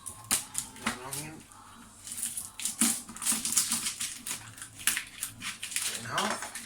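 A knife slices through an onion on a board in a home kitchen while cannelloni is prepared from scratch, giving repeated short crisp cuts and taps that sit under close, ongoing talk.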